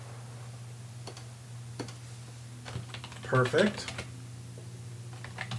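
Fingers type a text message on a computer keyboard, with sparse scattered clicks and then a quick cluster of louder keystrokes, close and clear over a low hum, and a voice speaking briefly.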